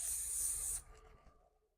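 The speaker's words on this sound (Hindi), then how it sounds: "हार्ड स्प्रे लगाकर" Hard hair spray is misted lightly over styled hair for a western choti hairstyle: one steady, close hiss lasting under a second, then cutting off into quiet.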